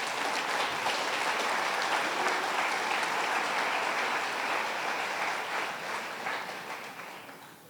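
A church congregation applauds during a Sunday service, a steady dense clapping that holds for several seconds and then gradually fades out near the end.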